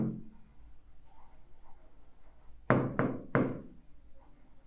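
Chalk or marker writing a formula by hand on a board during a mathematics lecture on Bayes theorem: three sharp, close strokes in quick succession after a quiet stretch, with no talking.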